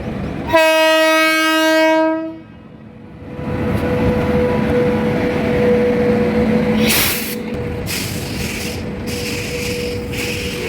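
A long Palitana local train pulls into a quiet station at sunrise: a loud horn blast opens, then a steady rumbling roll of wheels and carriages with brief hissing bursts of brakes or air.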